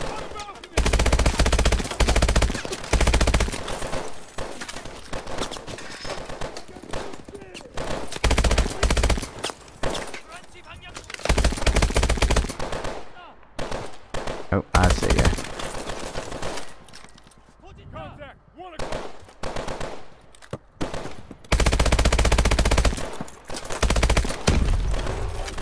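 Gunfire in Call of Duty: Advanced Warfare, dense automatic bursts and rattling volleys filling most of the stretch with a few brief lulls, loud and close.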